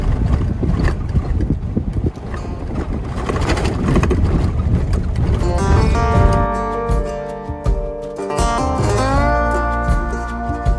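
A vehicle drives along a dirt road on the remote Dampier Peninsula near Broome, Western Australia: loud steady engine and tyre rumble with rattling and buffeting wind, the engine tone shifting and rising partway through, no talk.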